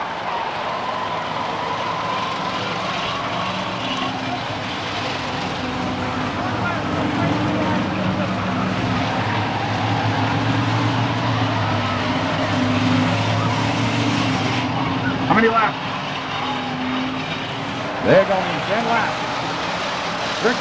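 Stock cars roar steadily around the Hudson Speedway oval during weekly short-track racing, a dense continuous engine drone with a few sharp knocks near the end, under a track announcer's voice.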